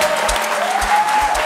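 Studio audience applause on a French midday talk show, a dense steady wash of clapping with low thumps underneath, moderately loud and continuous throughout.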